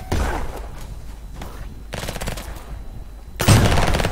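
Sniper rifle shots ring out in the browser shooter Venge.io, several sharp loud cracks spaced a second or so apart, each followed by a short decaying tail, with a heavier blast near the end.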